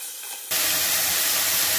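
Frozen minced meat hits a hot pan and breaks into a loud, steady sizzling hiss after a brief quiet moment, close and continuous.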